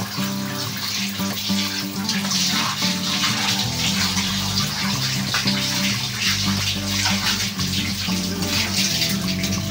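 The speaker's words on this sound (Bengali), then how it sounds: "লান্টু এখন স্নান করো।" Water is poured and splashed steadily while a street dog is bathed, a close, continuous gushing wash like a running tap filling a tub, with no talk over it.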